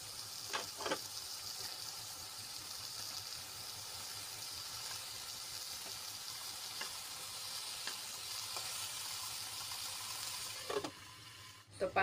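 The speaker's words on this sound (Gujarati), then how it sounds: "ટમેટા આપણા સાવ ચડી જાય ત્યાં સુધી આપણે એને ચડવા દઈશું" Tomatoes for a raw mango and tomato chutney cook in a covered pan, giving a steady soft sizzle and hiss throughout with a few faint clinks, ending in a brief clatter.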